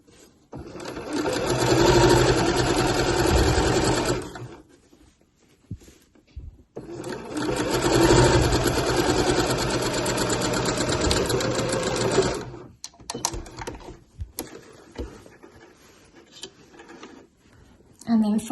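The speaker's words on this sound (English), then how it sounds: "I'm just going to sew all the way down that edge there" A sewing machine runs down the lining edge of a slouch bag in two long close bursts of steady rapid stitching, separated by a short pause, followed by quieter handling sounds as the fabric is repositioned.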